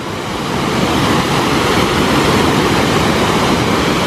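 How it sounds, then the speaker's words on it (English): A waterfall pours and rushes as people float down it, a loud, dense and unbroken roar of water that holds steady throughout. "Here's the waterfall."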